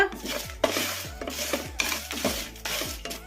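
White sesame seeds stirred with a spoon in a hot pan, the stove switched off, giving repeated scraping and rustling strokes in a steady rhythm, close and fairly quiet.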